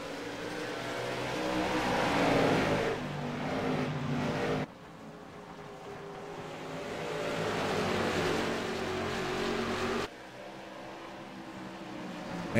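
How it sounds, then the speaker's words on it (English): Late model stock cars racing on an oval at over 100 mph, a loud sustained roar of engines that swells and fades as the pack passes, cut into several abrupt segments. "These drivers hitting speeds over 100 miles an hour in these straightaways."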